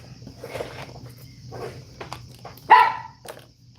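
A dog barks several times, with one louder, closer bark near the end, over a faint background hum and soft rustling.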